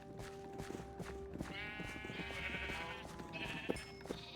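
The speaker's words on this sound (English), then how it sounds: "let's go ahead and make a bunch more sheep" Several Minecraft sheep bleat in turn, a few wavering calls close by over faint clicking game sounds, with no talk.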